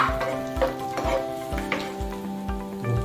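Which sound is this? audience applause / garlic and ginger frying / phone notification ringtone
garlic and ginger frying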